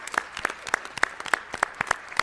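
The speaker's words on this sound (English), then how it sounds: "Let's give her a round of applause and welcome." An audience at a city council meeting applauds to welcome Zambia's First Lady, Mrs. Esther Lungu, with sparse, distinct claps in an irregular patter, moderately close and fairly light.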